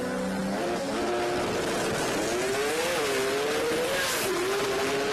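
Drag racing cars at the Sydney Jamboree run down the strip with a loud, continuous engine roar whose pitch rises and wavers as they accelerate, sustained for several seconds with no talk.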